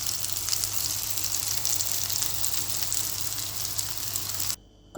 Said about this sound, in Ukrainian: І обсмажую на пательні на олівковій олії